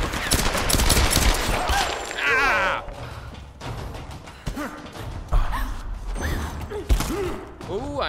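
Gunshots ring out in the Tomb Raider video game, a rapid burst of fire up front followed by scattered single shots and creaking mechanical game effects, all fairly loud.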